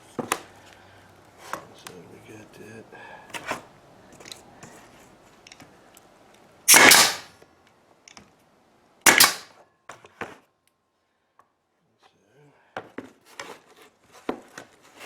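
Nail gun shooting nails into glued wooden blocks for a toy train, a few sharp loud snapping bursts standing out between quieter handling knocks, clicks and shuffling in a workshop.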